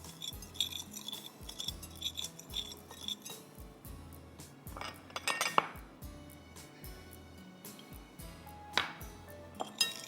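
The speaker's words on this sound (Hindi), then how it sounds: "black pepper, salt, crush red pepper और लेमन जूस को आपको मिक्स करना है" Black pepper, salt, crushed red pepper and lemon juice are stirred together in a bowl with a spoon, giving bright metallic clinks. They start as a quick steady rhythm, then turn into scattered taps and scrapes.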